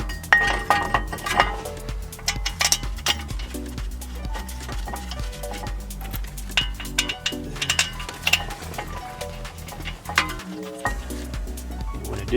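Metal bolts clink and rattle as they are handled and refitted during a front and rear brake disc and pad job on a Range Rover Evoque. Light, irregular metallic taps sit over low workshop background noise.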